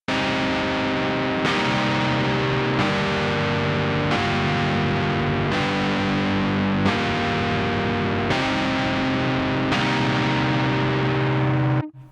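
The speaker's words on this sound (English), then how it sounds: "So this is the overdrive chords." Overdriven electric guitar chords from the Soundpaint Guitar 2020 PR-S sampled instrument, played dry without added effects: about eight sustained distorted chords struck roughly every 1.4 seconds, loud and even, ending with a short swoop.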